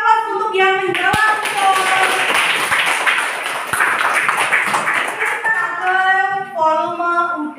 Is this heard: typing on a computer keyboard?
no